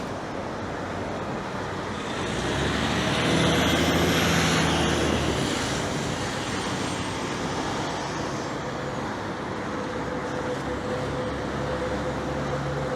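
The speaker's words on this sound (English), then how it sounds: "So here you can see some York Region buses heading south to Finch." York Region buses driving south along a Toronto road north of Finch, a broad roar of engines and tyres swelling as vehicles pass close, then settling into steady traffic hum with a faint whine.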